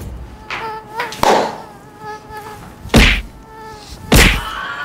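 A mosquito buzzes near a homemade swatting gadget built from an empty All Out refill and a DC gear motor; its thin, loud whine is cut by three sharp whacks.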